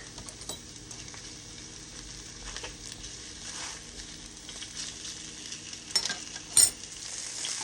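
Shrimp cooking in a very hot wok, a quiet continuous hiss of frying with occasional faint ticks and one brief louder crackle near the end, no talking.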